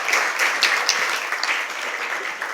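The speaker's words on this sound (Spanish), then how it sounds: "Aplauso para Ana María Díaz." Dense, loud audience applause fills a book presentation on biochemistry in the kitchen, a continuous wash of many hands clapping with no pauses.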